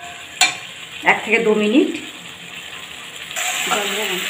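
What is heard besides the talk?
sautéing potatoes with spices in a pan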